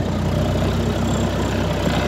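Tractor with a 4.4-litre, 92.5-horsepower Perkins diesel engine idling, a steady low rumbling chug with even rapid pulses, close and continuous with no voices.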